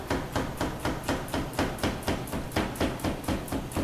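A knife julienning a yellow pepper on a cutting board taps out fast, even chops, about four per second, close and crisp with no talk.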